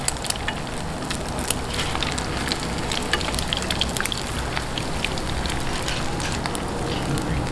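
Tikoy, a sticky rice cake, frying in a pan over medium heat, giving a steady close sizzle and crackle of hot oil throughout with no talk.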